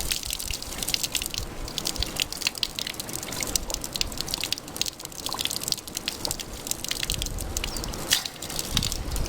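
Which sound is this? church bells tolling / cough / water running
water running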